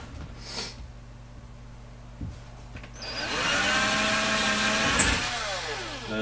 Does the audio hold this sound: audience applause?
no